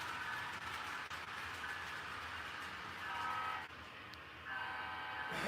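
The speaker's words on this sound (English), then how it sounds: "Here comes the Amtrak again." An HO scale model Amtrak train runs along a layout track with a steady close whirring rumble and faint rail clatter, brief tonal whines rising and dropping, with no talk over it.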